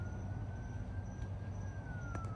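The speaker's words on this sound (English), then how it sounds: "I hear the police cars are coming" Police car sirens wail faintly in the distance, a thin steady tone drifting slowly in pitch above a low outdoor rumble, with no one speaking.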